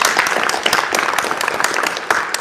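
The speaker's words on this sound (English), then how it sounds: "How about a round of applause?" A room of families applauding at a high school future teacher signing event at Wahconah Regional High School, a steady wash of many hands clapping close by for a couple of seconds.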